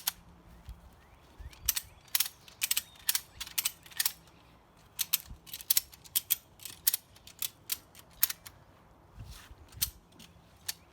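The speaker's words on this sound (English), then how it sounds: "then you continue to ratchet." Ratchet strap being cranked to tension a slackline outdoors: a long series of sharp metallic clicks in quick bursts, close and fairly quiet, with no talking.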